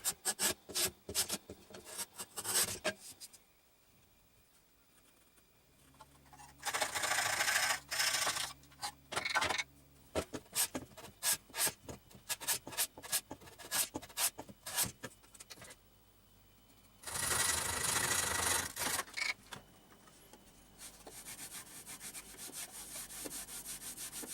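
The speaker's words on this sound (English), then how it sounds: "So now I'm just going to take a hand plane, and we'll take these shavings off slowly and slowly" Hand plane shaving wood on a jigsaw table crosscut sled, heard as several long rasping strokes in bursts separated by quieter gaps, close and fairly loud, with no talking.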